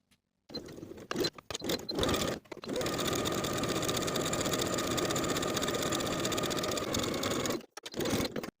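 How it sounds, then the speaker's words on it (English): A sewing machine runs steadily while edge stitching a fabric drawstring casing on a shirred dress bodice. The whirring starts and stops in brief bursts, then settles into one long continuous run that halts just before the end. "we're going to edge stitch along the short edge, pivot along the open long edge"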